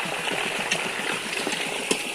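Water flowing steadily across a farm field, a continuous soft rushing and trickling wash, fairly faint and close with a few small splashes.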